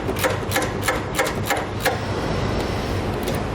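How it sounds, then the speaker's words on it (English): A socket wrench on a 14mm socket tightens base plate hardware on a 2014 Honda CR-V, giving a series of sharp metallic clicks in uneven bursts over a steady background, close and fairly loud. "we can now grab a 14mm socket and wrench and tighten it down the rest of the way"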